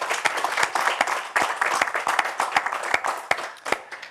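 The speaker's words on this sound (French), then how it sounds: "Je crois qu'on peut les applaudir à nouveau." An audience applauds after a reading at a word-competition grand final: lively clapping with distinct sharp individual claps standing out over a continuous wash, gently rising and falling in loudness over several seconds.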